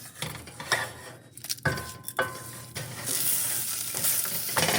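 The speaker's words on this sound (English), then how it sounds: "you have to keep stirring this" A spoon scrapes and stirs spiced rice frying in a pot in irregular strokes with clinks against the metal, and the stirring gives way to a steady, hissing sizzle.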